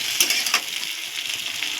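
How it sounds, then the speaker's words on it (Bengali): Cauliflower, potato and carrot fry in a hot pan with a steady, close sizzling hiss and a couple of sharp crackles early on. "এর সঙ্গে একটু গাজরটা একটু সামান্য ভেজে নিচ্ছি"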